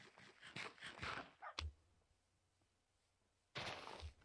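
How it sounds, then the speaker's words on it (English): Dogs in the Minecraft video game make a few quick yips and barks up close, followed by a quiet pause and then another short burst of yapping. "Well, good news is we have a pack of dogs."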